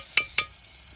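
Spices sizzle in a hot tempering for Maggi, two quick bright hissing bursts close together, then a faint steady sizzle.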